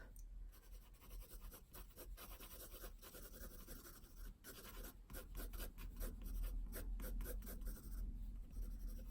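Quiet, close scratching of pencil on paper, a steady rasp broken by quick rhythmic strokes that grow denser and slightly louder toward the end.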